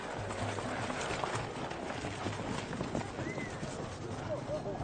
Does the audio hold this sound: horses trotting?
yes